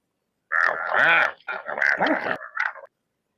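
A human voice imitates a dog, giving a few short, strained barking and growling yelps in quick bursts, close and fairly loud.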